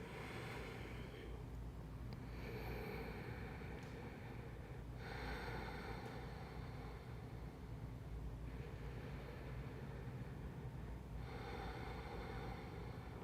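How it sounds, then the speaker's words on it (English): Slow, deep breaths during a lymphatic health practice, faint and close, with long airy inhales and exhales repeating every few seconds in a calm, steady rhythm and no talking. "We're going to take 3 more breaths."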